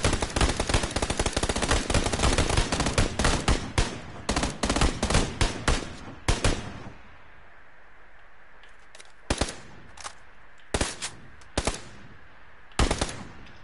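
PS4 shooter gunfire: a long, loud, dense burst of rapid machine-gun fire, then after a pause several short separate bursts of shots spaced a couple of seconds apart, with no talk.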